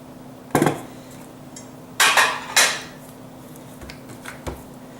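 A 14-inch pie pan handled in a home kitchen during sweet potato pie baking gives three sharp, close clanks followed by a few lighter taps and knocks, with no talking.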